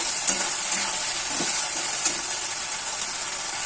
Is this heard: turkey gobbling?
no